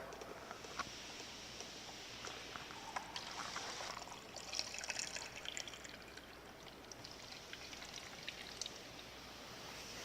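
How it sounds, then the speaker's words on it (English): Water pours steadily from a jug through a funnel into a coolant reservoir, a soft, continuous trickling stream with faint splashes, fairly quiet and close, with no talking. "We want to add an equal part of water."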